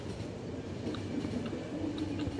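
Low, faint rumble of a train rolling along in the video game The Final Station, a continuous mechanical drone with soft, irregular clanks and no talking.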